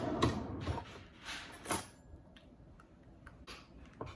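Door mechanism sounds: a latch clicks, the hinge creaks and the door thumps shut, with a few lighter clicks trailing after, close and fairly quiet.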